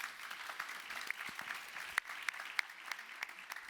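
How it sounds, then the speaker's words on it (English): Light applause from a lecture audience at the London School of Economics, fairly quiet and distant, with a few sharper individual claps standing out from the soft patter. "We'll give them a first round of applause."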